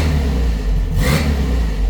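A 1956 vintage car with a 1600 engine and dual carburetors idles with a steady low rumble, then gives one short, sharp rev in the middle before settling back to its idle.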